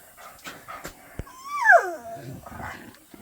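A dog lets out a short, high whining whimper that slides downward, with soft panting and small clicks around it, close by.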